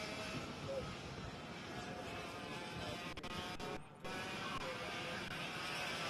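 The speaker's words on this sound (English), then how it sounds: "these are 100cc air-cooled engines. These are 2-strokes, centrifugal clutch." Air-cooled 100cc two-stroke racing engines with centrifugal clutches scream around a track in a continuous, loud, dense drone that dips briefly before surging back.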